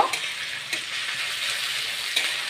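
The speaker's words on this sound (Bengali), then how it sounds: "এখন এটাকে ভালো করে মিক্স করে নেব।" A potato curry with ginger, garlic and chilli paste sizzles loudly in a pan while a spoon stirs it, with a few sharp scrapes against the pan amid the steady frying hiss.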